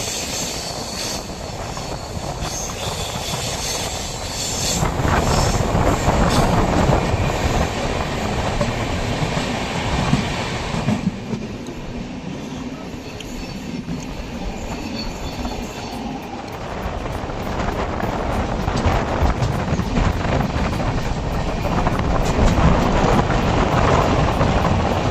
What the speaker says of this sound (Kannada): ಬೀದರಿಂದ ಮಚಿಲಿಪಟ್ಟಣ ಹೋಗುವ ಸೂಪರ್ ಫಾಸ್ಟ್ ಎಕ್ಸ್ಪ್ರೆಸ್ ಟ್ರೈನ್